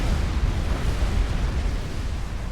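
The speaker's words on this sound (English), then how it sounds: "There goes the nuke." Nuclear blast in the real-time strategy game Supreme Commander, a loud, sustained deep rumbling roar that fills the whole span without letting up, with no voices over it.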